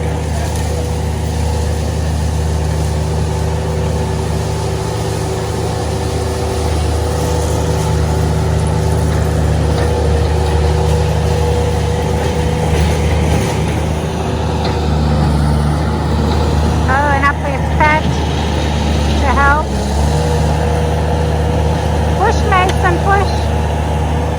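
A gator utility vehicle fitted with new tires drives around, its engine a steady mid-distance drone with some rattles. A person talks over it throughout.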